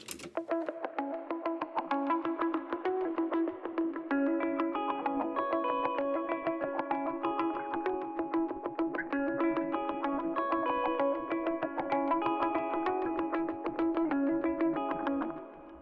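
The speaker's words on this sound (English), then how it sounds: "It's actually just some guitar chords playing and pretty much the same processing, clean tone, no phaser on this one, and some reverb, some delay" Clean electric guitar chords drenched in reverb and delay, no phaser, for a chill hip-hop track, strummed in a steady repeating rhythm with echoing tails, played alone at moderate level for about sixteen seconds before fading.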